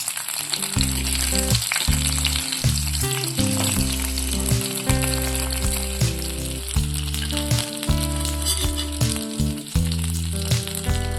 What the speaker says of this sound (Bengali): পনিরগুলো ভাজা মোটামুটি কমপ্লিট হয়ে গেছে